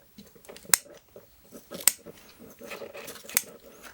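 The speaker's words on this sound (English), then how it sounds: "And then of course I can cut off all the roots that hang down." Three crisp, separate snips of blunt scissors cutting through the hanging roots of a bonsai grown from a cutting in a pot, spaced about a second apart over quiet rustling.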